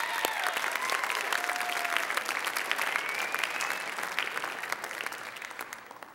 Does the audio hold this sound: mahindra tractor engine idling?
no